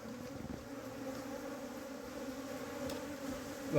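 A low continuous hum of honeybees being shifted from the ground into a hive box, steady and fairly quiet, with a brief handling bump at the end.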